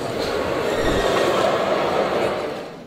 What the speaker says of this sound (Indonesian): Presiden RI Prabowo Subianto kembali ke Jakarta menggunakan kereta cepat Jakarta-Bandung WUS pada Kamis siang